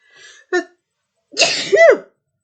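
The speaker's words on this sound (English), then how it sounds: "I'm going to sneeze in a minute." A single loud, close sneeze with a sharp wind-up breath and a forceful burst, preceded by brief quiet breathy sounds.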